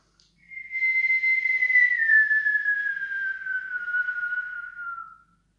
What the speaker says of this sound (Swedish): Man kan vissla.